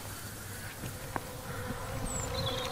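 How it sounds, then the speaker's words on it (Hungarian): Honeybees being released from hives in spring give a steady, dense buzz close by, a continuous droning hum with a few passing louder insects and no voices. "Ezután kiengedik a méheket."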